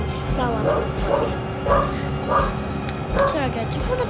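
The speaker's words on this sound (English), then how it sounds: "you're gonna be hearing continuous barking" Several pet dogs bark and yip in a home, short repeated barks with whimpering tones spread across the stretch, over steady background noise and a low hum, with talk mixed in.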